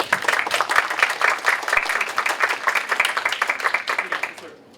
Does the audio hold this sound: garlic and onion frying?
no